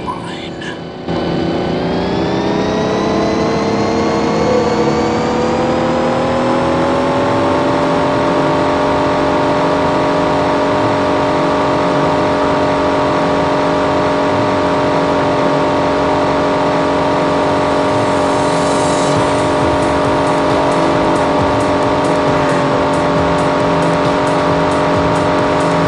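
Cars racing in the Knight Rider video game (2002), a loud sustained engine whine that climbs in pitch then holds steady, continuous and close for the whole stretch, with a voice speaking over it.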